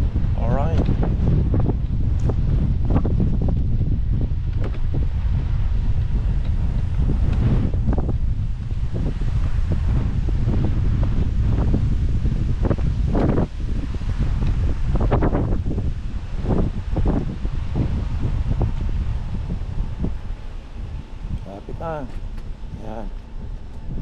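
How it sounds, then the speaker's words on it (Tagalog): Strong wind buffets the microphone in a loud, continuous roar, with gusts rising and falling and occasional voices underneath. "Malakas ang hangin."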